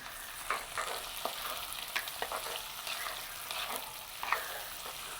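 Eggplant pieces sizzle and crackle in hot oil with curry leaves, a steady fizzing hiss with occasional sharper pops, fairly quiet and close, with no voices.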